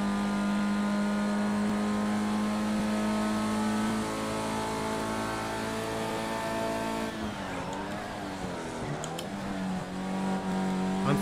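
Race car engine in Project CARS 2 revving hard as it accelerates uphill, a loud steady high-pitched drone that wavers and shifts gear near the end, with no talking over it.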